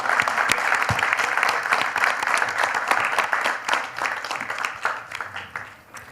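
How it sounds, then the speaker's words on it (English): Sustained audience applause for panelists at an economics conference session, dense and steady clapping filling the room and fading gradually toward the end. "Please join me in a round of applause,"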